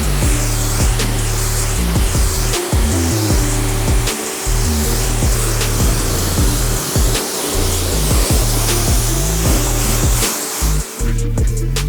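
A pressure sprayer rinses a softened coating off a car being prepped for ceramic coating, a steady loud hiss of water spray running nonstop with a low motor hum underneath, close and without talk.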